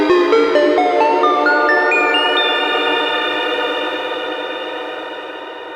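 A Korg NTS-1 mkII synthesizer plays a rising stepped sequence of bright tones through its space reverb, each note blooming into a vast, shimmering tail that sustains and slowly decays after the last pitch holds.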